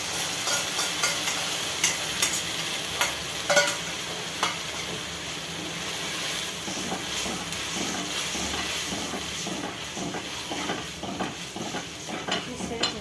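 Masala for veg Manchurian being stirred in a pan: quiet sizzling under repeated spoon scrapes and light metallic clinks, irregular and close.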